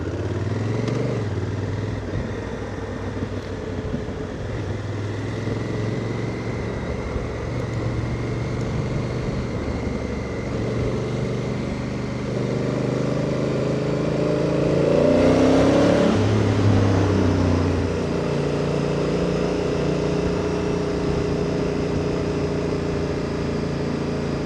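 A Honda Africa Twin CRF1000 DCT motorcycle rides through a quiet midday city, its engine a steady, close drone under the wind, swelling briefly midway as it accelerates.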